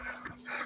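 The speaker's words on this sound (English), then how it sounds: "We have a dog" A dog pants in short, breathy bursts lasting under a second, fairly close and with a low steady hum behind it.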